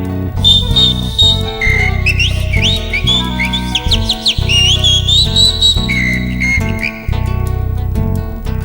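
A person whistles an imitation of calandria birdsong: trilling, sliding high notes in quick runs over steady music with a rhythmic beat, loud and continuous.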